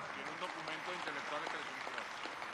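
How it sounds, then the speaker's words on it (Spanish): Audience applause during a plenary session of the Congreso Bicentenario de los Pueblos, a dense, steady clatter of clapping that lasts throughout, mixed with voices. "vamos a darle un aplauso a Luis Brito García"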